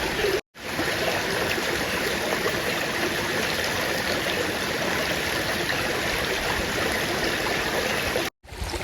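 Shallow water in a small stream channel set up for pipe-trap fishing rushes and gurgles in a continuous, close, steady flow with no pauses.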